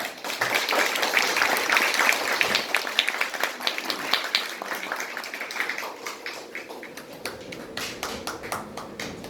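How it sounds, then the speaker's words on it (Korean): A crowd claps steadily, a dense patter of hand claps that gradually thins and softens over several seconds. "여러분 따뜻한 박수로 맞이겠습니다"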